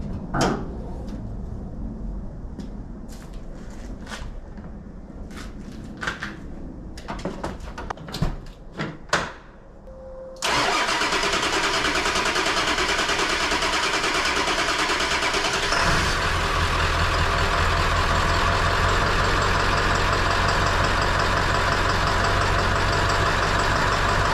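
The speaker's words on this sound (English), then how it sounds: "Let's see if we can't start this power stroke up and load it on the trailer." A Ford Power Stroke diesel truck on a cold, dark early morning: a few faint clicks and knocks, then the engine catches and settles into a loud, steady idle that deepens partway through.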